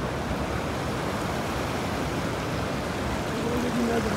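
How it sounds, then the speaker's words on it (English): Steady broadband rush of a waterfall at Fourteen Falls in Kenya, constant and close throughout, with a faint voice surfacing near the end. "Waterfall, yeah?"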